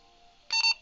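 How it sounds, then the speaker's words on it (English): A Kenwood or Motorola two-way radio under repair gives a short, bright two-pulse electronic beep on power-up, loud and close after a faint steady hum. "Did I have a beep when I turned on?"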